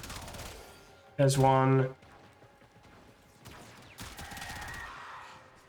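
Gunfire from the Prisma Gorgon in Warframe, a few quick shots in a dense volley amid game effects, with someone talking over it.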